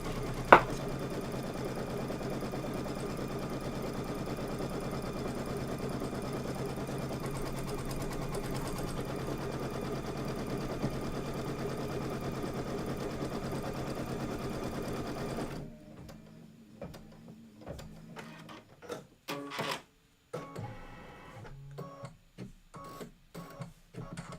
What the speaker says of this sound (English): I'm just going to go ahead and hit start, and it's going to stitch that.